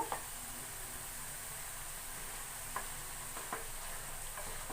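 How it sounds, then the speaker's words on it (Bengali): Spices are mixed with prawns in a pan as a faint, steady sizzling hiss runs throughout, broken by a few soft, sparse scrapes of the spoon. "ভালো করে সব মশলাগুলো আমি ওই চিংড়ি মাছের সাথে মিশিয়ে নেব।"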